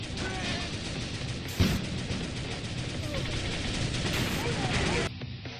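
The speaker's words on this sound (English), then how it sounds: "Yeah, let's go with the machine gun bonus. We have 2 machine guns." Twin machine guns in the top-down tank game Thunder Tank rattle in a dense, continuous fusillade, loud and close, thick with game effects and a sharp blast partway through, with a voice talking at times over the gunfire.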